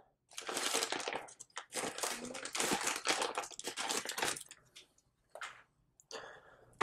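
Plastic wrapping around a Romain Jerome Pinup DNA red gold men's watch crinkles up close as it is unwrapped, in several bursts of rustling with short quiet gaps and a few softer crackles near the end.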